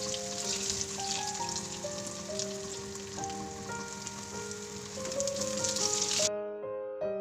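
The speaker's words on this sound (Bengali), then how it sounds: "তো এভাবেই কিন্তু আমরা উল্টে পাল্টে একটু ভেজে নিচ্ছি।" Rohu fish pieces fry in hot oil with a steady, crackling sizzle, close and fairly soft, with faint background music over it until it cuts off near the end.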